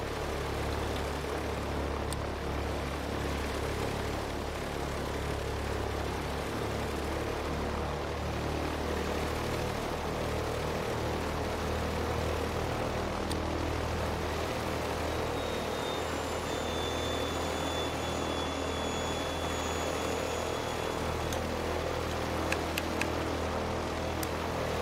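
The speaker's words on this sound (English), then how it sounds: "And engine number 1 is running beautifully." A Douglas DC-3's propeller engines run in Microsoft Flight Simulator 2020, holding a constant, loud droning hum throughout with no speech.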